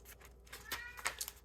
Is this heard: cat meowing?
yes